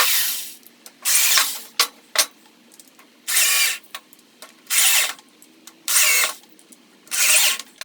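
A power drill driving screws into wooden legs of rustic wedding benches, in bursts of high whirring about a second long, with several separate runs spaced by short pauses and small clicks, close and loud, no talking.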